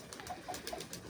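Pet pigeons coo in a short series of soft, rounded calls, three or four close together, heard up close with no talking.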